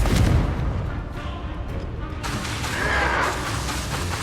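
A Confringo blasting spell explodes in Hogwarts Legacy combat, a loud burst of booming blasts and crackling debris amid dense battle noise.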